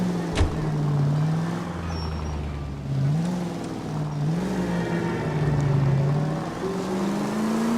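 A car in the video game L.A. Noire drives steadily, its engine whining up and down through the gears with a constant road rumble, close and continuous throughout, with no talking.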